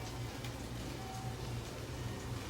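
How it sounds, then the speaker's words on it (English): Rain pours outside after a sunny spell, a faint, steady, even hiss of falling water with no voices over it. "Oh my God, it's raining out, you know?"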